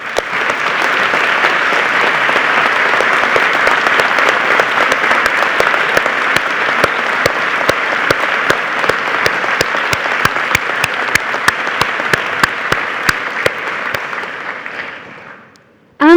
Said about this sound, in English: I just want us all to say one more thank you with a round of applause to your families